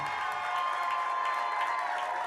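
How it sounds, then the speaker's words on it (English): Bowling alley crowd at Sun Valley Lanes applauding the North Bend boys team after a fourth straight state high school bowling title, a steady wash of clapping and faint cheers heard from a distance, fairly quiet. "That is the applause for North Bend as they are now 4-time state champs"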